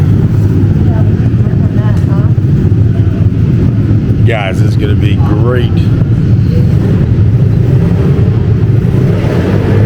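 A Honda Z50 mini bike engine idles and buzzes steadily throughout at an indoor mini bike racing venue, a loud continuous low drone under a person talking in the middle.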